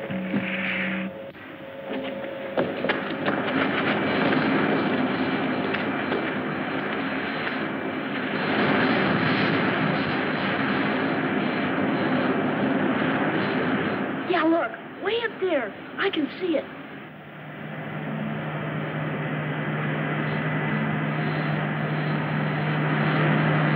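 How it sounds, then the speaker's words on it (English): Roaring rocket-engine drone of a spaceship coming in to land in a 1956 science-fiction film, a loud sustained rumble that swells and briefly breaks with warbling tones before a low steady hum settles in. "Handle the landing, Griff."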